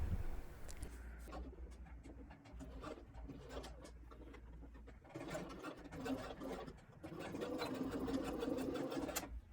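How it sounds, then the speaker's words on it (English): Sewing machine stitching the ends of a shirred dress together, a steady mechanical whir with short bursts and pauses, growing louder and more continuous toward the end, close up with no talking. "Join the ends and sew them together."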